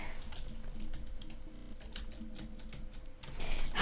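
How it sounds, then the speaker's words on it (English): Typing on a computer keyboard indoors at home: rapid, irregular key clicks, fairly close, continue for about four seconds with no talking over them. "You're typing random letters."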